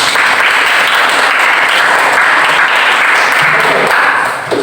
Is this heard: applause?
yes